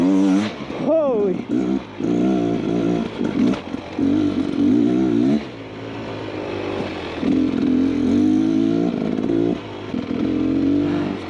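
A 2023 Beta XTrainer two-stroke dirt bike climbs a hill off-road, its engine revving up and down in repeated surges and then dropping back, loud and close to the rider, with brief clattering.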